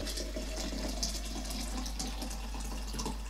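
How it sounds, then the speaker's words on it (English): Hot water pours into a double-walled metal coffee pot in a steady, continuous splashing stream, close and fairly loud, with no voices. "and we're going to get the water in."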